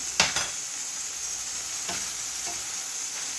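Sambusa filling with coriander or parsley sizzles steadily in a pan while a utensil stirs through it, giving a few scraping clicks over the continuous frying hiss.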